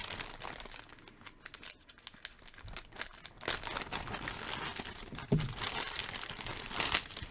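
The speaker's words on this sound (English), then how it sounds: "He comes in a resealable baggie." Crinkly plastic resealable baggie holding a Valaverse Action Force Urban Combat Republic Guard figure is handled and pulled open, with close rustling and crackling throughout and a sharper burst of crinkling midway.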